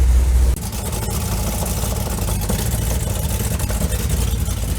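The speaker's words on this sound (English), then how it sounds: "Can you hear the exhaust leak?" A 1984 Dodge Ram idles with an exhaust leak, a steady low rumbling drone that holds close and even throughout, with a brief louder burst at the start and no voices.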